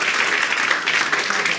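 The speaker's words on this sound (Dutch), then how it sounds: "Dus misschien alvast nu een hartelijk applaus." Applause from a seated audience at an evening philosophy café in Nijmegen, a brief burst of dense clapping that stays even from start to finish.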